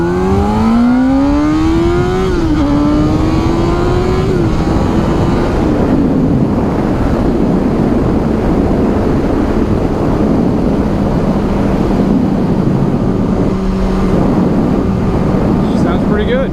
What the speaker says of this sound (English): this exhaust is actually pretty nice in the fact that it's not super loud, but then, you know, you do have the nice exhaust sound